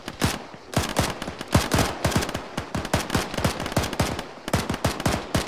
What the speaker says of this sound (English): Okay, red team, hold up where you got, get some cover and put some fire out.